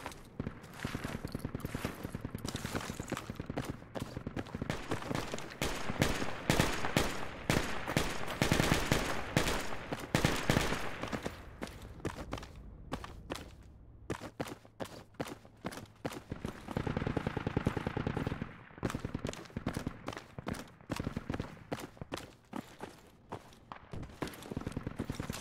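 Dense gunfire and bursts of automatic fire crackle through a Project Reality round of cache defense, sharp rapid shots clustered in volleys with brief lulls, sounding moderately close and steady throughout.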